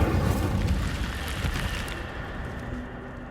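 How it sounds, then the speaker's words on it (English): The Incendio fire spell is cast in the Hogwarts Legacy video game on PS5, giving a low rumbling whoosh of flame with a soft burst that fades out over a few seconds, heard alone at moderate volume. "we need to do something with fire. Incendio."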